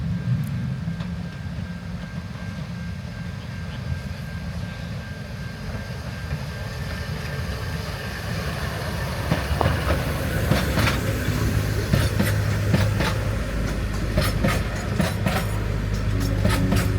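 Abt Locomotive No. 2 rolls along the West Coast Wilderness Railway in Tasmania, a steady rumble of carriages with rhythmic wheel clatter and faint squeals that grows louder and busier in the second half, with no voices.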